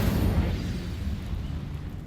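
An Incendio fire spell erupts in Hogwarts Legacy, a loud close whooshing blast with a deep rumbling body that fades over about two seconds.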